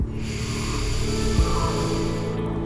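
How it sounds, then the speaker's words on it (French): A slow, steady yogic inhale during a vinyasa yoga session, close and loud, drawn out over a faint tonal backdrop. "On reste bien connecté à notre respiration de yogi. On inspire durant 4 secondes."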